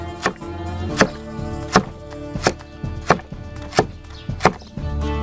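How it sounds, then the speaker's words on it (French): A kitchen knife chops a carrot on a wooden board for a village soup, about eight crisp, evenly spaced strikes close by with brief gaps of quiet between them. "Il reste à couper la carotte."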